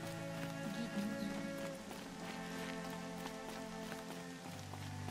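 Steady rain falling in the Horizon Zero Dawn video game, a dense even patter that runs throughout with game music and ambience underneath.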